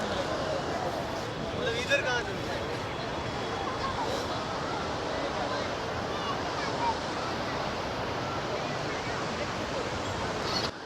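Ocean surf rolls continuously onto Puri beach at sunset amid a crowd, a broad wash of waves and breezy wind noise, with people talking in the background throughout.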